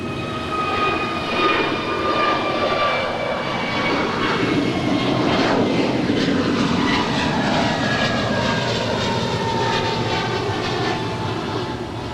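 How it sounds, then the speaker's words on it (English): Brand new American Airlines Airbus A321neo departing LAX for Washington National, a sustained loud jet roar with whining engine tones and sweeping pitch shifts as it climbs past nearby. "That is American 2226 departing to Washington National. It's a brand new Airbus A321 Neo."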